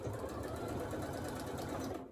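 A sewing machine stitches fabric in a steady, fast mechanical whir that runs unbroken for about two seconds. It sounds close and even with no voices, then cuts off abruptly at the end.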